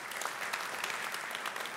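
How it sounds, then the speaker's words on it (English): An audience at a conference claps steadily, a continuous patter of many hands, fairly distant and soft. "And we'll give them a round of applause as I've finished presenting them."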